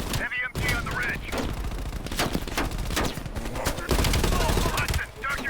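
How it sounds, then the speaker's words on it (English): Heavy machine gun fire rattles through a Call of Duty battle scene, dense rapid bursts mixed with explosions and combat noise, with voices talking over the gunfire. "Heavy MG on the ridge."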